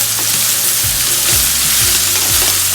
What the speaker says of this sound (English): everything is cooked in the oil, and now we put the karelas